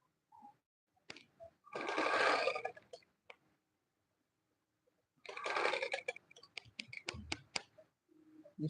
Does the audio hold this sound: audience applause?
no